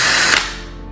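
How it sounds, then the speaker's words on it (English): A brief burst of a power drill boring a hole in a Jeep body with a 1/2-inch bit, a loud whirring grind lasting under a second before easing off. "we used a 1/2-inch drill bit to drill at the center of that"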